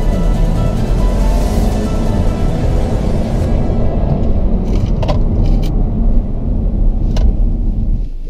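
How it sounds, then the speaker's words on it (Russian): An Audi sedan in dynamic mode on a fast test drive gives a loud, steady engine and road roar with deep low rumble, and a few brief clicks and rattles toward the end. "Итак, первый автомобиль Audi, едем в режиме динамик"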